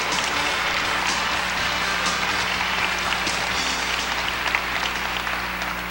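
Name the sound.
audience applause for pageant contestants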